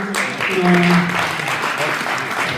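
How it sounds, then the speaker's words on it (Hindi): An audience at an evening gathering honouring elders claps for a speaker, a moderately loud, even wash of applause with a brief tonal murmur of voice near the start. "जावेद साहब के लिए जी बहुत सी तालियां।"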